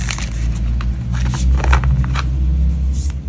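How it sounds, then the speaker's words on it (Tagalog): Steady low rumble of traffic on a busy road, with vehicles passing close by and occasional higher hiss and rattle bursts, continuous and fairly loud throughout with no talking. "Kung merong mga maiingay na sasakyan sa background"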